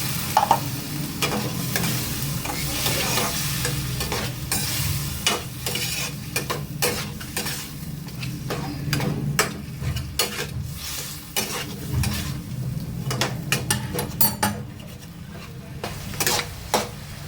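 Spices with coriander powder fry in a pan while being stirred, a constant sizzle beneath repeated scraping and clinking strokes of a utensil against the pan, close and loud.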